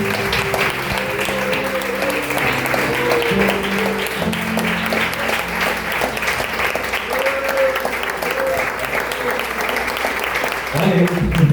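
A church congregation claps steadily through the stretch, the dense applause running over soft sustained keyboard or organ tones in the background.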